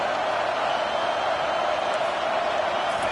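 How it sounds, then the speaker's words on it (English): A packed college football stadium roars with a steady, dense crowd din in the NCAA 25 video game, continuous and loud with no break, as the home fans try to keep the opponents pinned deep in their own end. "They've got them pinned deep in their own end, and this crowd trying to help keep them there."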